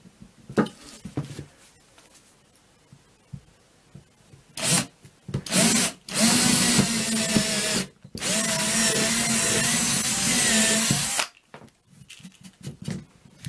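A power drill bores a hole into a piece of firewood in two long, loud, grinding bursts up close. Handling knocks and rustles come between the bursts, and there is no speech.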